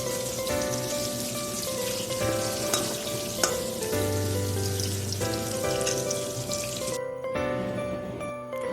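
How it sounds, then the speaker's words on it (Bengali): Eggplant slices coated in turmeric and salt crackle and sizzle steadily in hot oil, a dense close frying hiss with scattered pops and no talk, easing briefly near the end. "এটাকে হলুদ লবণ মাখিয়ে তেলে দিয়ে এটাকে এখন কড়া করে ভেজে নেব এপিট ওপিট করে"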